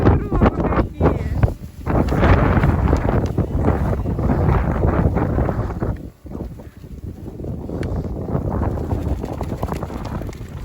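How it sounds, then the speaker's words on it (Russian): A blizzard wind roars outdoors in snowy Krasnodar, battering the microphone in loud, rough gusts that drop off briefly partway through and then return. "Что там за сугробы и метель?"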